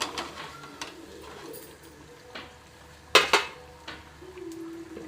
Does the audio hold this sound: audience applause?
no